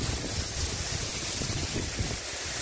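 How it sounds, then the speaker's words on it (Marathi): A waterfall at Cherrapunji roars in a continuous broadband rush, loud and steady, with wind buffeting the microphone. "अमेझिंग वॉटरफॉल आहे।"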